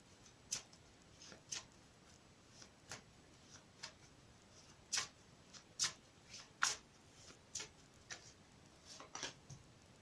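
Short riffling bursts of cards being shuffled, repeated roughly a dozen times at an uneven pace, crisp and close with no talking.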